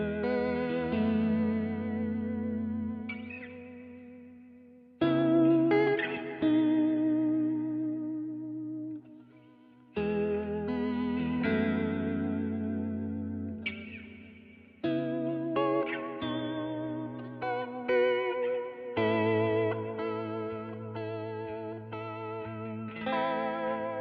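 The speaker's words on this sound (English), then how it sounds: "Let's keep it on cycle and switch it back to reverb into vibrato." Guitar chords played through a Vongon Ultrasheer pedal set to reverb into vibrato, with wobbling, shimmering sustains. Strums fall roughly every five seconds, each swelling and fading into a wash before the next.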